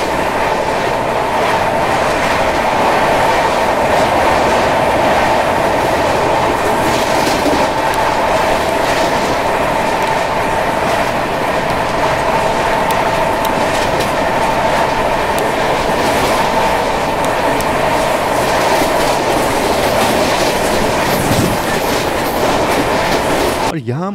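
Indore Howrah Shipra Express running on the rails, with a steady loud rumble and rhythmic clickety-clack of wheels heard from inside the moving train, continuous throughout.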